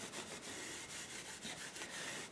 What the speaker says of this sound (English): Maybe we'll run some of this gray Scotch-Brite on it now.